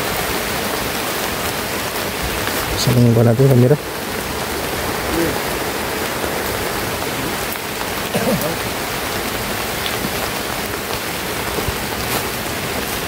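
Steady heavy rain pours down across an open outdoor area, a dense continuous hiss throughout, with people talking over it and a brief louder low hum near the start.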